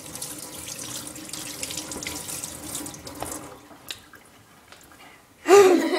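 A spoon is rinsed under a running kitchen tap, with a steady rush of water into the sink that fades out, then a sudden louder burst of splashing water near the end, with a brief voice.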